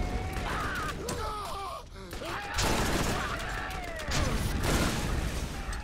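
Gunfire and explosions in the Borderlands video game, a dense run of bursts and crashes with layered blasts and chirping effects that swell at intervals.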